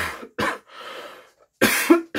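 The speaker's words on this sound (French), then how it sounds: "Oui, je tousse." Several separate coughs come close by in short bursts, the last harsher and throatier, with brief quiet gaps between them.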